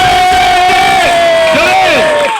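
A village crowd at a traditional event roars and whoops together in a loud, sustained cheer for a named participant, voices overlapping close up and fading slightly at the end.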